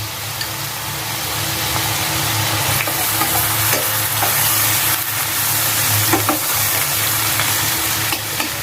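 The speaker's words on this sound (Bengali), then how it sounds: "ভালো করে মশলা কষায় নিব" Spice paste of ginger paste, turmeric and chili powder frying in a pan for a rui fish curry with green banana, a steady loud sizzle with scraping stirring throughout and no talk.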